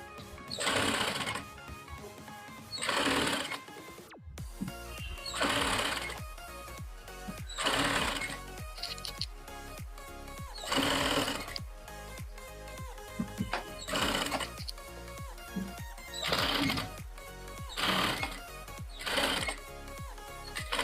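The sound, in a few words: sewing machine stitching a blouse strip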